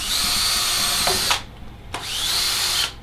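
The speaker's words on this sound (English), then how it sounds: "So we're going to drill" A power drill whines loudly in two close bursts, spinning up and winding down with a short pause between them, drilling into an African skull during repair.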